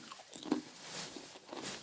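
Big Chipsy cheese potato chips bitten and crunched close up, a few crisp crunches with short chewing between, quiet and alone.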